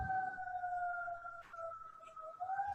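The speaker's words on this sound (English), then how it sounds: "little siren" A faint siren passes outside, heard indoors as a sustained two-tone wail that holds steady and dips slightly, distant and alone.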